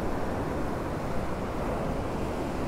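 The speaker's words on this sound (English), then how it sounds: "Sometimes we get some big ones, then they kind of slow down, then we get big ones again." Steady, loud roar of Hurricane Milton's storm surge waves against a seawall, a continuous churning wash of surf mixed with wind noise and no voices.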